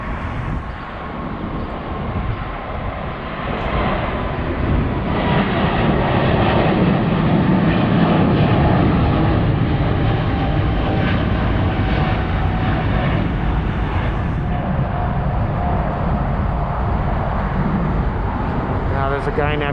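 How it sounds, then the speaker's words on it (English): An airplane taking off at LAX airport roars steadily and loudly for the whole span, its engine noise swelling slightly midway and mixed with distant traffic. "here comes a plane."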